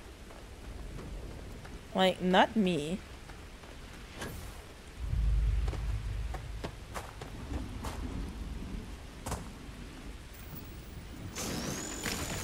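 Rain falls steadily in the video game Starfield, with thunder-like rumbles and bursts of game sound over it and someone talking briefly near the start.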